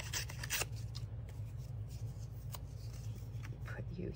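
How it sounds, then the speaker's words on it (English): Paper torn by hand while making paper snippets for a collage, a few short dry rustling rips close by under a steady low hum. "I'm gonna tear this part off."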